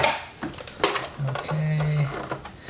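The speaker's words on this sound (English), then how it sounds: "let's back up and stitch right back on top of that point" Sewing machine stitching fabric for a Miata e-brake boot, with short bursts of motor whir and needle chatter that stop and restart, the longest run near the end, amid faint background talk.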